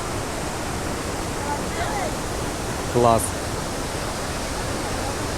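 Iguazu Falls in Argentina roars as a steady, dense wash of rushing water that fills the whole clip, with a brief voice rising over it near the middle.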